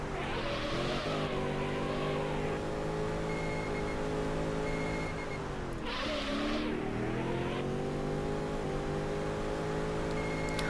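A 1960s muscle car in the Auto Modellista racing game, its engine a steady loud drone that sweeps up and down in pitch through gear changes, with a couple of brief roaring surges around one and six seconds.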